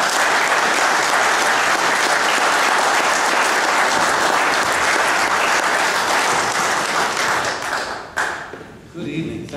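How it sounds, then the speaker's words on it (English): An audience applauds to welcome gun-rights speaker Larry Pratt, a loud, dense, sustained roar of clapping for about eight seconds that then thins and breaks off near the end. "Please give a round of applause to Larry Pratt."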